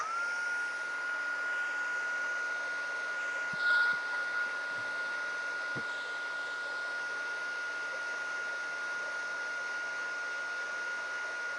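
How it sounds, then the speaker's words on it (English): Heat gun blowing steadily over clear embossing powder during card-making, a continuous airy whir with a faint high whine lasting throughout, a few soft taps in between. "So let me get my heat gun out."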